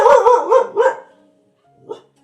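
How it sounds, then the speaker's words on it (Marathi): A dog, sore and hurting, gives a quick run of three or four loud, close barks, then falls silent before one softer bark or whimper near the end. "एवढं दुखतंय तरी पण भुंकणं काही कमी नाही"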